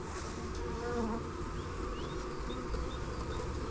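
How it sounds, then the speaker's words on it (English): Honey bees buzz around an open hive during transfer of a nucleus colony, a dense steady hum of many insects close by with individual bees droning past. "It's got a good populace of bees."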